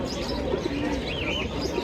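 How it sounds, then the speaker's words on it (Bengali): Soft throaty cooing of pigeons close by at a pigeon market in Fatullah, Narayanganj, a few low rolling calls over a steady background hum, with faint chirps. "ভাই গেন্দা কবুতর তো"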